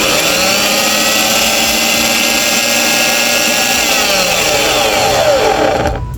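Car starter motor spinning freely on a bench test, a loud continuous high whine that holds steady, then cuts off abruptly at the end.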